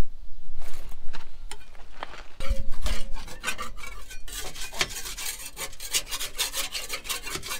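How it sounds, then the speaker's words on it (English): Steady rough scraping and rasping of sanding rust off metal on a van, with repeated short strokes, close and moderately loud, continuing throughout. "sanding down the rust and just making it nice, black, gleaming, back to metal"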